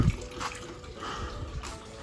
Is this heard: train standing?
no